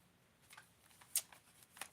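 A deck of tarot cards being shuffled, soft papery riffles and flicks with a few sharper snaps, close and quiet with no talk.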